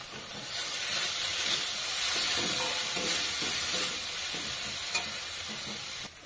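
Turmeric, cumin powder and salt stirred into a hot frying pan for chana paneer masala: a steady close sizzle and hiss with soft scraping stirs throughout, no voices.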